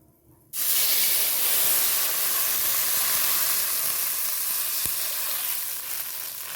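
Water poured into hot fish-frying oil with nigella seeds bursts into a loud, sudden hissing sizzle that stays strong and steady for several seconds, close by and without talk.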